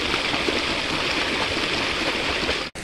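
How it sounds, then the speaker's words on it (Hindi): A stream flows steadily in the evening, a loud, continuous rushing and gurgling close by that is broken only by a brief dropout near the end, with no talk. "इधर से देखो ये चल रहा पानी"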